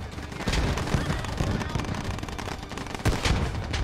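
Gunfire rattles in the military shooter video game Squad, with dense bursts of automatic fire and heavier booming shots throughout, loud and close, while voices react faintly in the background.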